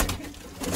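Pigeons cooing at close range, a soft steady burble of low calls filling the short moment with no talk over it.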